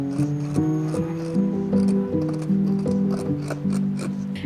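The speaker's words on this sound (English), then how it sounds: "I'm going to go ahead and trim the seam allowance as close to the seam as I can." Scissors snip through fabric seam allowance on a kids' bib in a series of short, crisp cuts with a steady rhythm, close and fairly quiet, with no talking.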